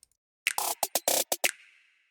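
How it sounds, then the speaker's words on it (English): A plain snare roll from a Kpop beat plays alone as a short run of six or so bright, close hits, some clipped and some held a bit longer, ending in a brief ringing tail. "So I have my snare roll, which, you know, this used to sound like this."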